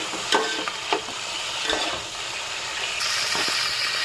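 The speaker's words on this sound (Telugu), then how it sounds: "ఇప్పుడు అందులోకి ఆనియన్స్, కరివేపాకు, ఒక టమాటా, ఎండుమిర్చి వేసుకున్నాము. ఇది బాగా వేగాలండి." Onions, curry leaves, tomato and dried red chillies frying in hot oil in a pan, a continuous sizzle broken by several scraping stirs near the microphone, with no talk.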